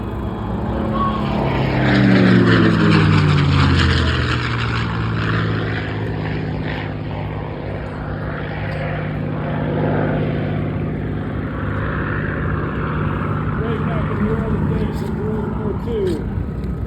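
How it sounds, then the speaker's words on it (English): P-51 Mustang propeller fighter passing at an air show, a loud droning engine swelling as it approaches and then easing into a sustained rumble as it moves away. "Let's listen as the P-51 flies by."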